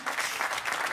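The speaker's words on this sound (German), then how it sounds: "Sag mal, das ist dein Applaus." Brief burst of audience applause at a German stage show, dense clapping at steady moderate level for under a second with no voices over it.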